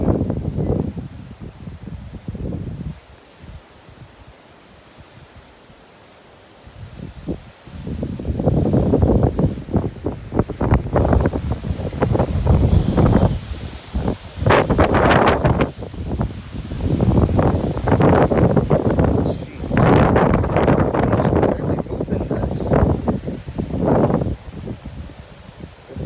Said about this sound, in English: another gust of wind.